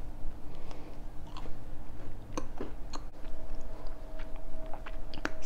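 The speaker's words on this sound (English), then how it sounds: "I took too big of a bite." Someone chews a big bite of triple chocolate chunk cookie made from Krusteaz mix, close up: steady moist mastication with occasional crisp crunches, no talking.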